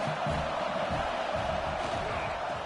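A stadium crowd at a college football game at Notre Dame roars steadily on fourth down, a dense, loud, continuous wash of voices.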